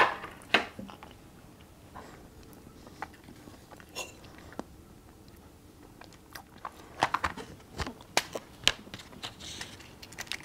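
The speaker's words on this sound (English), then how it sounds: "And I'll have some of my daughter's chocolate cake." Quiet, close chewing and crunching on a piece of chocolate cake outdoors at a wild camp, irregular soft bites with a sharper cluster of crunchy clicks toward the end, no voices.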